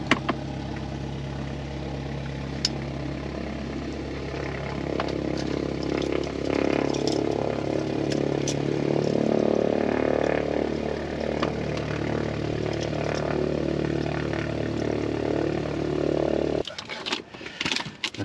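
A Cessna 172 engine at Camden Aerodrome, NSW, Australia, runs steadily after a cold start with the propeller turning, a continuous droning hum heard from inside the cockpit under occasional talk before it cuts off abruptly near the end.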